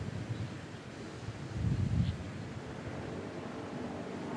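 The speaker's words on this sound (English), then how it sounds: "Wind really blowing." Wind gusts across a golf course during the 2012 Arnold Palmer Invitational, a soft steady rush with a brief stronger gust near the middle, no voices.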